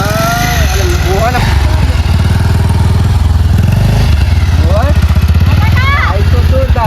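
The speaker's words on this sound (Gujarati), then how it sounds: "બાઈક તો જોરદાર હો. નવું લાગે." A scrap-heap motorcycle engine runs steadily and loudly the whole time, a low throbbing drone with people chatting over it.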